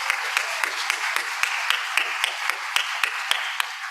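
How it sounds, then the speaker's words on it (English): A church congregation's round of applause during Sunday announcements, a steady wash of many hands clapping throughout, moderately loud and even. "a big round of applause for everyone who helped bring Soup and Talent to life on Friday night"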